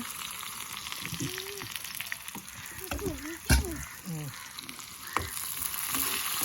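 Onions fry steadily in hot oil for a curry, a continuous close sizzle with a brief louder crackle midway, while a voice speaks over parts of it.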